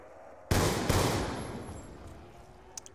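Two sharp sniper rifle shots from Black Ops 2 zombies on the Buried map ring out close together, each with a long decaying echo and no talk over them.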